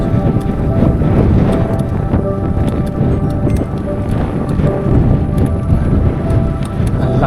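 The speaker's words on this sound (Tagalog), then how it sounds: "Ang lakas ng hangin." Loud, steady headwind on a hiking trail in the Philippines roars and buffets against the microphone throughout, a dense low rumble with no voices.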